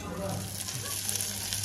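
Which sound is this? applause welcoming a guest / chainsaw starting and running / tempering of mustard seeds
tempering of mustard seeds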